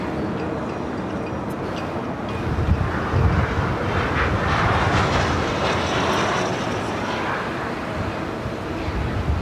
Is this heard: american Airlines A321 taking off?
yes